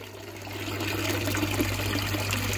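Water rushes steadily through a small filter in a homemade mini pond, a continuous splashing flow that builds slightly and then holds even, with no voices over it.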